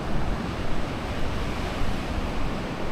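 Surf washes steadily onto the white-sand shore of Sapsapan Beach in Casiguran, Aurora, a continuous, moderately loud roar of sea waves with faint wind and no voices.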